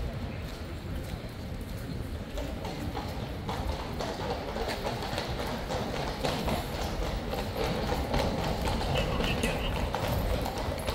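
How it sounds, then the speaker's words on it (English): Horses' hooves clip-clop steadily on a paved road in the morning, a procession of several horses approaching amid a busy outdoor ambience with people around. "Look at these beauties, and the horses aren't bad either."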